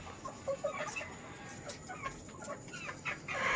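A rooster and eight pullets in a farm breeding pen cluck softly and intermittently, nearby, with scattered short calls over a steady background.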